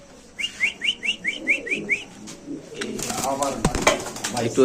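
Pigeons at a market stall give a run of about seven quick, rhythmic coos or whistling calls, then busy crowd noise and talk take over.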